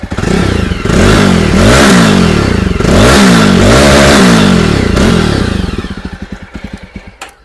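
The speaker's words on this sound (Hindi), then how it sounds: "अब जावा बोबर 42 का एग्जॉस्ट नोट सुनिए आप।" Exhaust note of a Jawa Bobber 42 motorcycle, loud and close, rising and falling through repeated throttle revs before dropping back to a lumpy idle that fades near the end.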